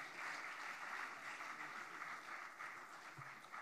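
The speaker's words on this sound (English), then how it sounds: "let's give a big round of applause to our ministers" A conference hall audience gives a sustained round of applause for a panel of government ministers, steady dense clapping that stays loud from start to finish with no talk over it.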